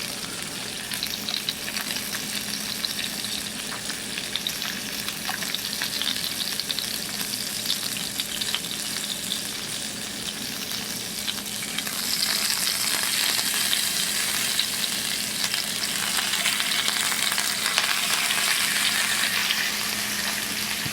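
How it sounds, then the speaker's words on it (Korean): Thin pork belly slices frying in plenty of fat in a frying pan give a dense, continuous crackling sizzle that stays loud and close throughout and grows slightly busier partway through. "돼지를 이렇게 후라이팬에다가 하면 정신이 없어"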